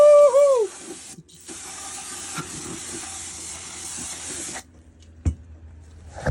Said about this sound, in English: we're gonna take our brake cleaner and we're gonna spray